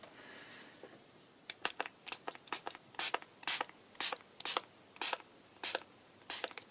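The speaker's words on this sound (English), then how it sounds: "Just a light misting of water." Spray bottle lightly misting water onto tracing paper, about a dozen quick sharp pumps in a fairly steady rhythm, close and distinct with no talking.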